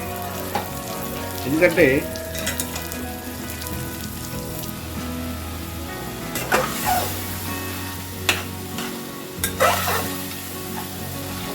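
Tomato puree sizzling and frying in a pan for murgh chole masala, with a spoon stirring and scraping through it in a few short bursts over a steady close sizzle, and a brief word spoken.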